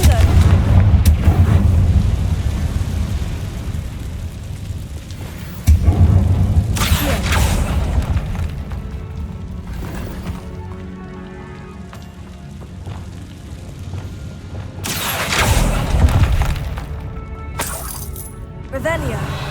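A Confringo blasting spell explodes in a catacomb video game scene, with several heavy booming bursts, one early, one near the middle and one later, each rumbling out over steady low game ambience.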